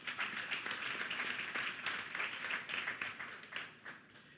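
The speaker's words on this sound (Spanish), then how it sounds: "Un aplauso al Señor" A Sunday church congregation claps in praise, a soft, distant patter of many hands that continues steadily without pause.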